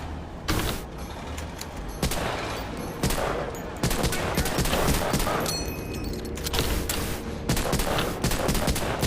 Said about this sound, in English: They have a big machine gun.